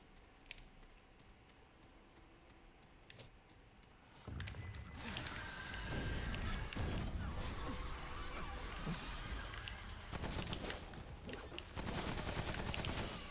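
SMG gunfire in the video game Remnant: after a quieter stretch, dense rapid bursts of automatic fire break out and continue loudly with only brief pauses, mixed with other game action.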